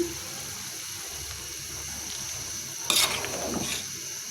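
Green chilies go into a frying pan and hit hot oil with a sudden loud sizzle about three seconds in, after a quiet stretch of low kitchen hiss; the crackle fades down over the next second.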